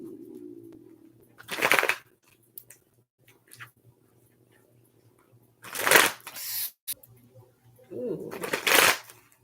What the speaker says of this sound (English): I gotta shuffle one more time.